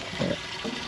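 Water runs steadily from a broken livestock water trough on a farm, making a close, continuous rushing and splashing noise with no voices.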